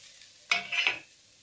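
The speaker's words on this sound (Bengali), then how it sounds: "প্রথমে আমি কড়ায় নারকেল কোড়াটা দিয়ে দিই" Grated coconut tipped into a kadai and stirred, making a single short, close scraping rustle of about half a second in an otherwise quiet kitchen.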